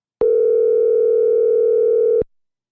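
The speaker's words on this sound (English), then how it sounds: "Let's see if we can get him on the phone." A telephone dial tone sounds while a call is placed to a guest: one loud, steady electronic tone holds for about two seconds, then cuts off into silence.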